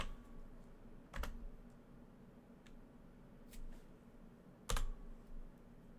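Scattered, sparse keystrokes on a computer keyboard, a few sharper clicks standing out over a faint background hum, fairly close but quiet.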